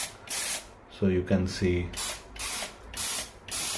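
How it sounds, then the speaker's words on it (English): Slim jet spray of water from three holes at the top of an Alton bathroom bidet spray head, hissing in repeated bursts with a person speaking briefly over it. "it releases a slim kind of jet spray"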